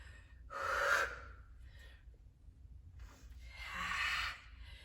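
Two long audible breaths during a dumbbell HIIT workout, a drawn-out inhale then a strong exhale, close and fairly soft over a low background hum.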